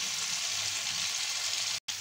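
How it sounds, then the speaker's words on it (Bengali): Potato and pointed gourd pieces fry in a pan, sending up a steady, close sizzle that cuts out briefly just before the end. "এদিকে দেখো আমার আলু পটল ভাজা হয়ে আসছে"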